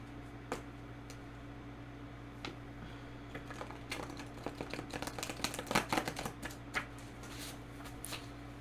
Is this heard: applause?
no